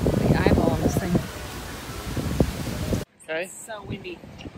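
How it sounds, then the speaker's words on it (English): Gusty wind buffets the microphone with a loud roaring rush while a person talks, then the noise suddenly drops away near the end. "So windy."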